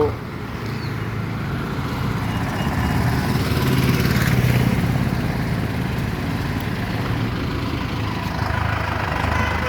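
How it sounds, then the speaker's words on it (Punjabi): A tractor engine idles nearby with a continuous, steady low rumble that stays at an even loudness throughout. "ਆ ਬਾਈ ਦਾ ਟਰੈਕਟਰ ਆ"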